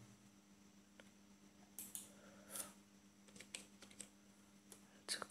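Keys clicking on a computer keyboard, a quiet scatter of brief taps and short bursts at moderate distance over a steady low electrical hum, with no talking.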